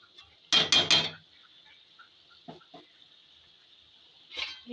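A metal lid clatters onto a cooking pot of simmering cauliflower gravy, a sharp double clank up close followed by a few faint taps and a later soft clink, otherwise quiet.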